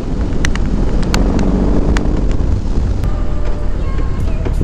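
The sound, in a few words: riding a BMW R18 motorcycle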